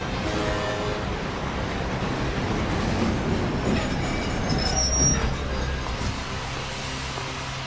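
A video game train rumbles past with rolling wheel noise and faint squeals, a steady mechanical roar that swells slightly midway, without any talking.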